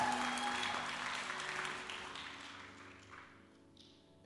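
A Pentecostal church congregation at a Sunday service applauds in a soft, sustained wash of clapping that fades gradually toward the end, distant and fairly quiet.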